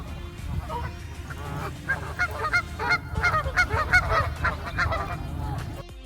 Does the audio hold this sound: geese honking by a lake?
yes